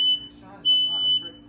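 A smoke alarm sounds at night with two sharp, high electronic beeps separated by a short gap, loud and close in an otherwise quiet room.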